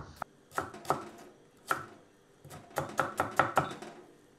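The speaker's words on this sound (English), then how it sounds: "So with the leeks, cut the leeks right the way down the middle." A knife chops leeks on a cutting board, giving sharp, close knocks: a few separate cuts, then a quicker cluster of strokes toward the end, with no talking.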